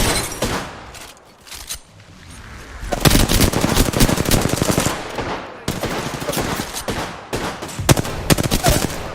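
Rapid automatic gunfire and sniper shots in the Apex Legends video game, dense loud bursts of rattling fire with short lulls between volleys, continuing throughout.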